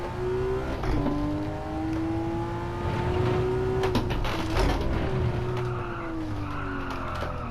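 A 400-horsepower car drifting on grippy tires in Gran Turismo 7, tires squealing in long sustained wails that rise and fall over a steady engine drone, with no talk.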